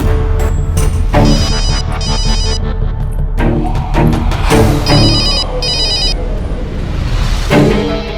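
A mobile phone rings in repeated electronic bursts, a tonal ringtone pattern that comes in several rounds with short gaps, loud and close.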